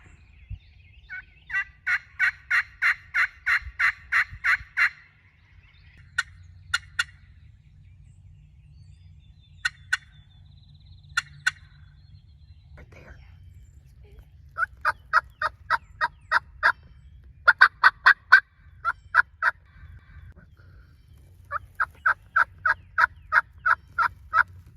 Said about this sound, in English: a yelp was answered with a gobble, and next thing you know, we had a turkey come running in